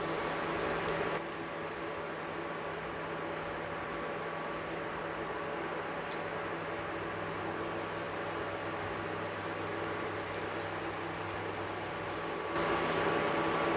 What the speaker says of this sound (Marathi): मच्छीला आपल्याला शॅलो फ्राय करायची आहे.